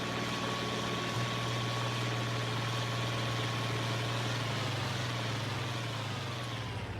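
An older tractor engine in Farming Simulator 25 runs at a steady, even drone while driving, a continuous low hum with a slight pitch shift near the start and no talking.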